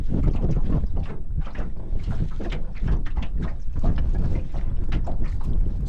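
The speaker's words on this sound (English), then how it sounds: "It's pretty windy." Strong wind on a riverbank beside a small aluminium tinny boat, buffeting the microphone in heavy, irregular low gusts and rumbles that continue throughout with no talk.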